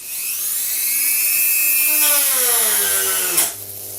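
A Dremel rotary tool runs close and loud with a high, steady whine whose pitch slowly drops as it bogs down, then rises again after a brief jolt near the end, with no talk.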